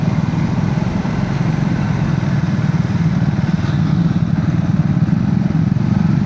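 Triumph motorcycle ridden along a mountain road in Mustang, its engine droning steadily and loudly up close with a dense low rumble throughout, no voices.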